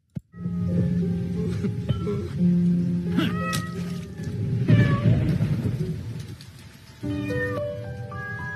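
Cat meowing in a mobile game advertisement, several distinct meows over a steady musical backing, fairly loud and close, with a rumbling swell midway and a brighter burst of music near the end.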